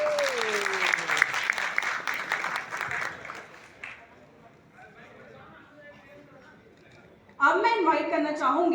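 An audience at a Crowne Plaza Delhi event gives hearty applause for Anjum and his wife: dense clapping for about four seconds that fades to a quiet room, then a voice begins speaking.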